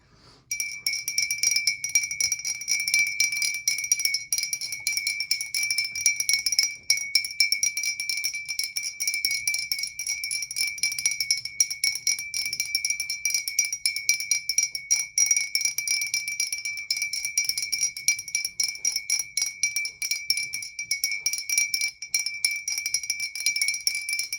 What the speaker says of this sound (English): this is the antique gnome bell, and we'll do our auditory cleansing